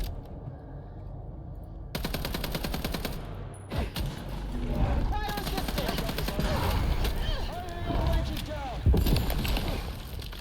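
Sustained automatic gunfire in Vampire the Masquerade Bloodlines 2 rattles on in fast dense bursts after a quieter opening, loud and close, with a voice talking over parts of it.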